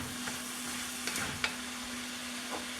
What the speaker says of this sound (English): I'm going to go ahead and add my eggplant